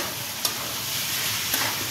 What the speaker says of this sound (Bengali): আমি চিকেনটাকে খুব ভালো করে একটু ভাজা মতো করে নেব